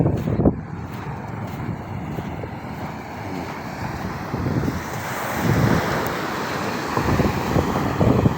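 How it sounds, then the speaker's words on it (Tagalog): Ocean waves roll and break along Zambales beach, a steady close wash of surf with a dense rush of wind noise buffeting the microphone. "Ito na ang alon."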